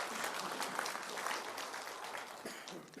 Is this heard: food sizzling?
no